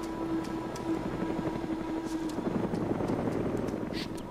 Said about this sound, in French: Hélicoptères.